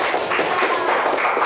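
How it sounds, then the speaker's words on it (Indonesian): Brief burst of classroom applause as students clap together after a presentation, a short, fairly loud, dense patter of hands. "Tepuk tangan buat kita semua."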